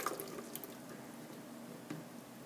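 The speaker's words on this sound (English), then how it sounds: "drain the autoclave again" Water dripping as an autoclave is drained, a faint, scattered run of small drips and liquid trickles over a low hiss, with one clearer drip near the end and no talk.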